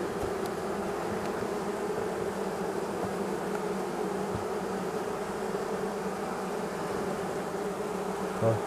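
A morning hive inspection in an apiary, with honeybees on a seven-frame colony producing a continuous close, loud droning buzz that holds steady throughout.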